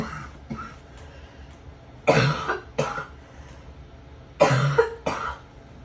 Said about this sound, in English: thank you guys for being so patient with me while I cough